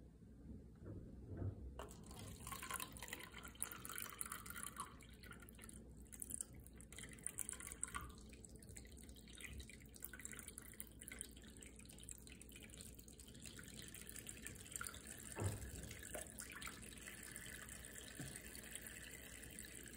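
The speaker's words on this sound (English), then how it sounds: "I'm going to rain the fresh water through this cup with holes, which represents my cloud, over the delta." Fresh water rained from a cup with holes onto a bay estuary delta model, a continuous soft patter of drips and trickling across twenty seconds, fairly faint with a couple of sharper splashes.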